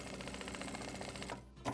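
An industrial sewing machine stitches quilting in a steady, fast run of repeated needle strokes, then stops abruptly. A brief clack follows the stop. No one talks.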